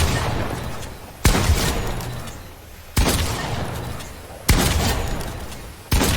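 Pump shotgun blasts in the video game Fortnite: four loud, sharp shots spaced about one and a half seconds apart, each ringing out and fading before the next.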